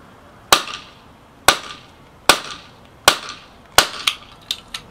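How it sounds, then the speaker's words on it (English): A bullet being pulled from a 10mm cartridge, heard as a series of sharp, loud impact raps at roughly regular intervals, each ringing briefly, with quicker lighter taps at the end. "I just got done pulling a bullet apart"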